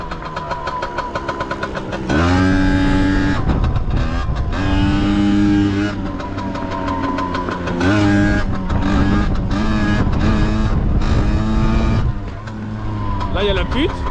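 Chinese Piwi 80 mini motorbike revving hard in second gear, a loud buzzing single-cylinder engine note that rises and drops repeatedly throughout, with a rider talking over it.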